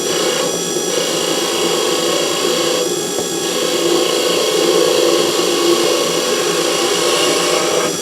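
A wood lathe turns steadily while a tool shaves a little more wood off the spinning piece, giving a continuous, loud rasping hum with no pauses.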